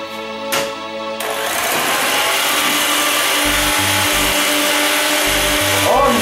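Electric whisk beating egg whites and sugar for meringue, a steady high mechanical whir running continuously and loud up close after a couple of brief knocks, with faint low hum beneath.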